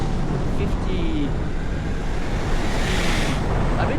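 Sea surf and gusting wind roll steadily along a coastline on a cycling journey from Cappadocia toward Georgia, a continuous broadband wash with wind buffeting the microphone throughout and no clear talk over it.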